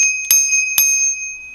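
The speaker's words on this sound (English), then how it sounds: "It looks like we don't have a horn, but we do have a bell." The bell on a Lacros Cyclone full-suspension electric bike gives two bright, close dings about half a second apart, each ringing on and slowly fading.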